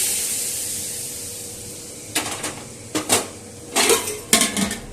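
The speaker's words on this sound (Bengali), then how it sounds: "দিয়ে এবারে এই তেলটা আমি ঢেলে দেব ওই গোটা সেদ্ধর মধ্যে।" Hot oil is poured into a pot of gota seddho, boiled whole mixed vegetables, with sharp bursts of sputtering crackle in four distinct clusters after a quiet stretch, close and fairly loud.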